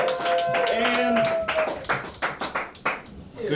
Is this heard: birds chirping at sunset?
no